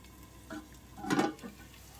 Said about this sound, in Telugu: అల్లం తెల్లగడ్డ పేస్ట్ బాగా ఫ్రై అయిపోయింది.